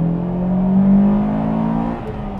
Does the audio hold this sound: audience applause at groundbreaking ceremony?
no